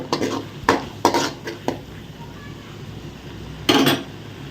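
Onion, green chili and ginger-garlic paste sautéing in a pan, heard as a run of quick metal spoon scrapes and clinks against the pan, then a pause and one more scrape, with only a faint sizzle underneath.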